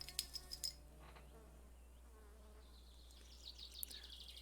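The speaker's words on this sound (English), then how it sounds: "The buzzing that you're hearing in the background is mosquitoes." Mosquitoes whine in the video game My Summer Car, a thin, faint buzz lying in the background with a few brief clicks near the start.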